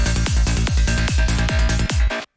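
A full-bodied kick drum pounds repeatedly in a dense, loud mix without EQ, deep low thumps on a steady beat before the music cuts off suddenly.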